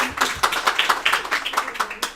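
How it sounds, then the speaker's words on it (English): A small group claps together in a quick, steady rhythm of about a dozen crisp claps, fairly faint, during a girls' lacrosse team interview. "We got to clap that up."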